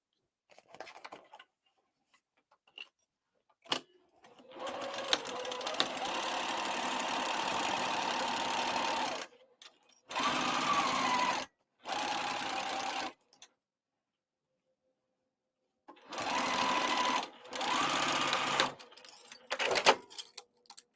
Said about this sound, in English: I'm going to stitch this at 1/4 of an inch seam allowance with a stitch length of 3.